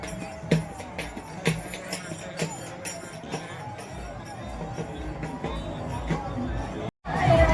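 A large crowd of pilgrims packs a temple of the goddess Yedai, a dense murmur of many voices with occasional sharper calls and thumps, steady and close throughout before a brief cut near the end.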